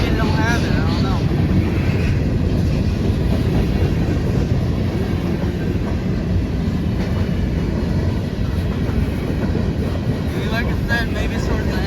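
A long CSX freight train of about 97 cars rolls steadily past in the rain, its loud continuous rumble and wheel noise filling the whole stretch with no pauses and no talk.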